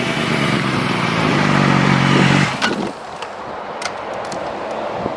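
A motorcycle ridden by a new rider in a figure-eight loop in an empty lot, its engine droning steadily and loud before easing off to a quieter idle-like rumble with a few light clicks.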